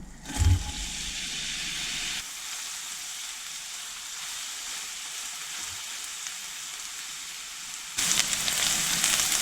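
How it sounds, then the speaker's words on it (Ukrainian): Onions frying in hot oil: a sharp initial pop, then a steady, close crackling and hissing sizzle that continues evenly with a louder rush near the end. "До розігрітої олії відправляю цибульку та обсмажую її."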